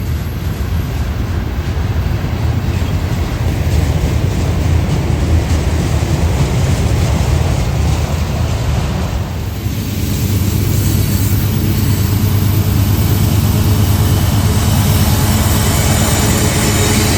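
A train hauled by a locomotive working at full power in notch 8 rolls past at Highbridge Viaduct, a loud, continuous rumble and roar that holds for the whole stretch, heavy low pounding from the engine carrying through without any voices.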